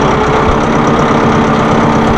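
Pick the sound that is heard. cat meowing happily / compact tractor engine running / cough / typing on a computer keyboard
compact tractor engine running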